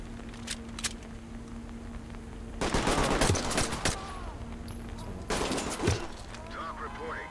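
In the police shooter Ready or Not, two loud clusters of rapid gunshots ring out a few seconds apart, with sparse isolated shots and quieter game ambience between them.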